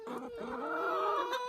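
Backyard chickens cluck and murmur close by in a garden, a short run of soft, rising and falling calls.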